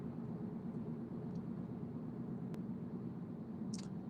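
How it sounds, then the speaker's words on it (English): Tesla Cybertruck on gnarly off-road tires rolls along steadily, its interior filled with a constant low road roar and tire hum, with a brief faint tick near the end. "I do a little bit more noise than most Cybertrucks because of the gnarly off-road tires that I have"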